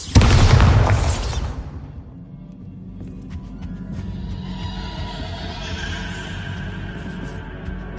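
Bombarda explosion spell in Hogwarts Legacy on PS5: one loud, close blast with a deep booming burst that decays over about two seconds into a low rumbling tail and faint ringing debris.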